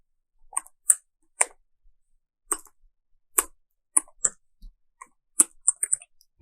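Computer keyboard keys click in sparse, irregular taps, crisp and close against silence, with several short pauses between keystrokes as code is typed.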